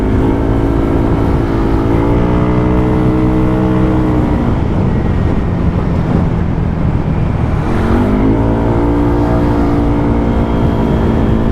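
An engine fitted with an NGK Laser Iridium SIMR8A9 spark plug runs loud and close, its tone climbing and falling through several swells of revving before settling back to a steady drone.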